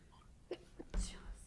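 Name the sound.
sneeze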